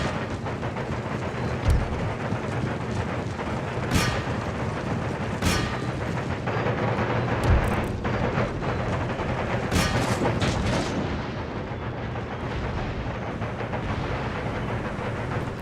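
Artillery and mortar battery fire in the PC strategy game Empire: Total War, with repeated booming shots over a dense, continuous wash of battle noise and rumble, sharp reports standing out every couple of seconds.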